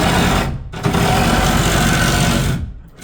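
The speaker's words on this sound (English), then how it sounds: "reciprocating saw works just as well" A reciprocating saw cutting porch sheathing on a side porch rebuild chatters loudly and continuously for about two seconds, with short pauses at the start and end of the cut.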